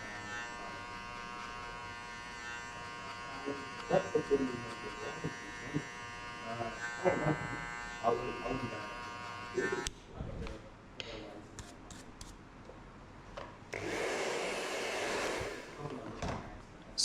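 An electric hair clipper buzzes steadily during a buzzcut, with bursts of talking over it, then cuts off midway before short clicks and a louder burst of noise near the end.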